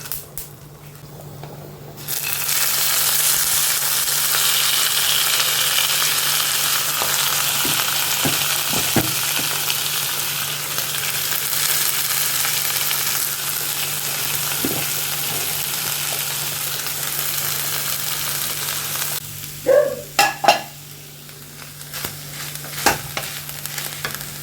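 Boiled banana stem stir-fried in a pan for chhechki, a loud continuous sizzle that holds for most of the time before dropping away to quieter scraping and clinks near the end.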